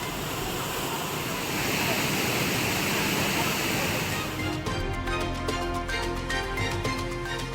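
The Panchalinga waterfall in the Thirumoorthy hills roars with a dense, steady rush of falling water, loud and continuous, with the texture shifting partway through.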